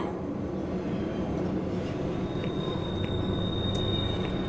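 Monorail train from Doom 3 rolling along, a steady loud rumble of wheels and rail noise with a faint high metallic whine running through it, continuous throughout.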